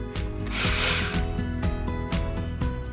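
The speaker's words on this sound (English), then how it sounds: "install the lag screw using the socket wrench" A socket wrench ratchets in a steady rhythm, with repeated clicking strokes close by as a lag screw is driven in to install a flat strap.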